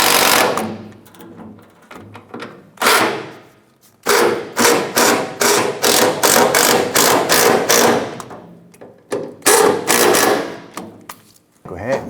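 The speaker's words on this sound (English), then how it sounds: "Let's go ahead and tighten up our strap bracket here." A ratchet tightens the fuel tank strap bracket bolt on a 1994-2004 Chevrolet S10, giving close, loud bursts of rapid clicking in a quick repeated rhythm with short pauses between strokes.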